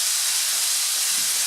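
Lamb browning in a hot pan for a tagine, a loud, dense, hissing sizzle that stays constant and close over the short stretch, with no talking.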